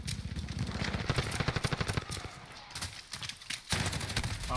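Gunfire from the Call of Duty: Black Ops Cold War video game, rapid repeated shots in bursts with a dense crackling texture, moderately loud and steady through most of the moment with a brief lull near the end.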